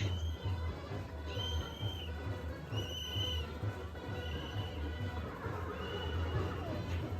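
A horse neighs repeatedly as a sound effect from an illuminated winged-horse light display at a Jagaddhatri festival in Chandannagar, the whinnies rising over a dense steady crowd hum and low rumble.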